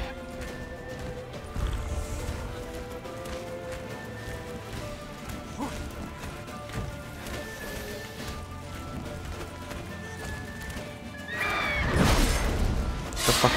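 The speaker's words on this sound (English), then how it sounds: "What the hell, where'd that horse come from?" A horse gallops in The Witcher 3: Wild Hunt with quick, muffled hoofbeats at moderate loudness over game music, and a heavy crash bursts in near the end.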